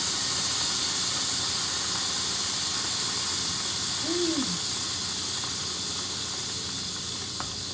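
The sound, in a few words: hot pan crackling with grease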